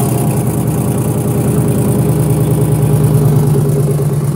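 Car engine running at a steady idle after starting, a loud, even mechanical hum with a regular low pulsing beat that carries on unchanged throughout.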